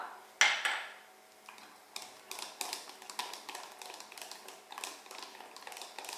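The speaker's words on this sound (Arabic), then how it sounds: "وغادي نستمر في التحريك حتى ذوبان كل الشوكولا" A spoon scrapes and taps against a pot while chocolate pieces are stirred into thick cream, a sharp clink at the start followed by a series of light, rhythmic scraping strokes, close up and without talk.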